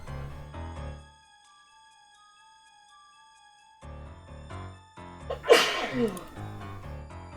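A single sharp sneeze bursts out over electronic game music from a Tex Murphy mystery game, loud and close, with jingling tones around it.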